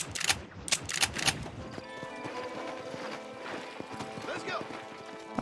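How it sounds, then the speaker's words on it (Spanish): Horses clip-clopping and trotting in the cowboy video game Red Dead Redemption, several hooves beating in a quick uneven rhythm with a neigh or two, mixed with game music and ambience at moderate loudness. "esos son unos caballos"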